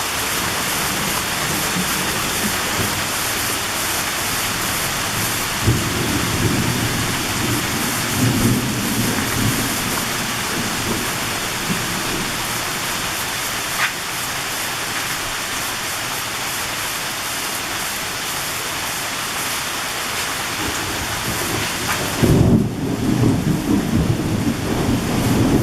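Fast-moving severe summer afternoon thunderstorm with heavy downpours, a dense roar of rain pounding surfaces, broken by low rumbling thunder and a loud close burst near the end.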